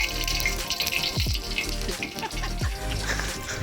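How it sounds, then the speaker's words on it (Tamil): Hot candle wax mixture bubbling and boiling in a pot, a close, continuous gurgling and popping with a few deeper bubbling bursts. "அந்த கொதிக்கிற சத்தம் கேக்குதா?"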